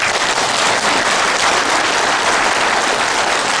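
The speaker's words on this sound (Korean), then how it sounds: "여기에 노력한 우리 군 지휘관들한테 박수 한번 보내야 되는 거 아닙니까?" Lecture audience applauding military commanders, a dense, steady burst of loud clapping from a large crowd with no talk over it.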